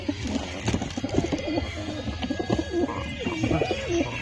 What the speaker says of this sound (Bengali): দেখো সব পায়রা এখানে এখন খেতে দিচ্ছি আমি, দেখতে পাচ্ছ সব হাতে খাচ্ছে পায়রা।